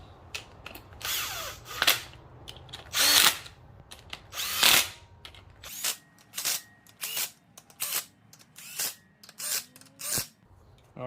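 A power tool spins down 13 mm 12-point main cap nuts on a Honda Prelude/Accord 2.2L engine, a series of short, close whirring bursts, longer at first and then quick regular pulses.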